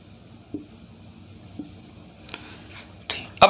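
Chalk or marker strokes on a board as letters are written, a few short scratchy taps spread apart and then a sharper cluster of strokes near the end, close and fairly quiet.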